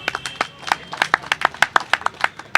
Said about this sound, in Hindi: उनके लिए सबसे पहले अभिवादन तालियों के साथ होना चाहिए।